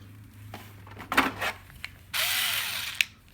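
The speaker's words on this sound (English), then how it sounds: "I will open all screws on the back panel." A cordless automatic screwdriver backs screws out of the rear panel of a Samsung 32-inch TV, giving a few short mechanical clicks and rattles, then one steady, close, high whirring run of about a second.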